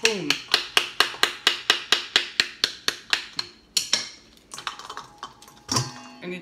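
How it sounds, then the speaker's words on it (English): Pomegranate seeds being loosened by tapping the fruit with a wooden spoon: a steady run of sharp, evenly spaced knocks, about three per second, close and loud, then a few scattered taps and rustles. "We take it like this and loosen the seeds with the wooden spoon."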